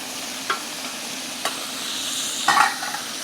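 Prawns fry in a pan for a takeaway-style garlic sauce dish, giving a steady close sizzle punctuated by a few sharp stirring clinks.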